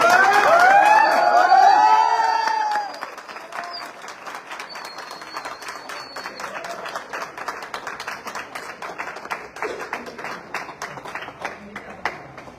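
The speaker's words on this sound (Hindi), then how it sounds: "मैं चाहूंगा कि एक जोरदार तालियां हो जाए" Clapping from a group at a car delivery event rings out with cheers and whistles at first, then settles into thinner, scattered applause that trails off.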